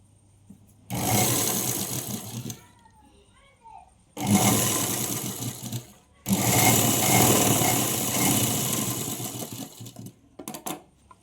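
A sewing machine stitches umbrella frock fabric in three loud, steady whirring runs of about one to four seconds each. The runs are separated by short quiet pauses, and a brief final burst comes at the end.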